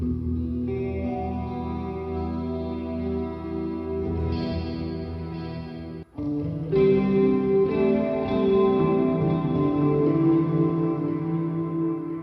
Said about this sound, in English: Forward, we got our clean ambient sound.